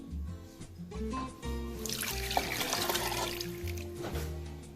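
Water pours into a cooking pot of Ogbono soup for a couple of seconds, a gushing splash over soft background music.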